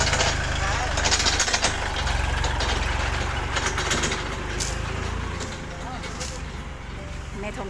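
A farm tractor plowing a field near elephants runs with a steady, rough engine rumble that stays close and constant throughout, with a noisy outdoor wash over it.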